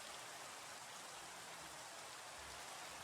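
Rain falling in Minecraft at night in an ATM7 Skyblock world, a constant soft hiss of rainfall with no distinct drops or other sounds.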